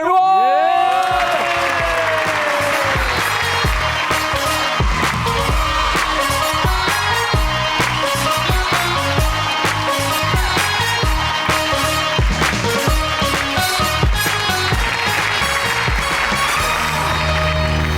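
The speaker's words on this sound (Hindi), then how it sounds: "तशरीफ लाते हैं आप सबकी भरपूर तालियों में जनाब ईसार राना और रिजवान रजी साहब।" A studio audience at a Pakistani talk show claps and cheers to welcome guests, sustained loud applause running throughout alongside stage music.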